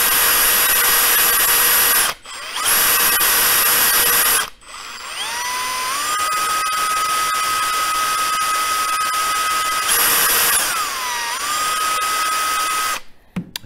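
Pistol feed ramp being buffed with a dry swab on a spinning rotary tool, a loud, steady high-pitched whine that cuts out briefly twice, then drops in pitch as it loads up before stopping near the end.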